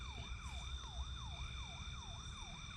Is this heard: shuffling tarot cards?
no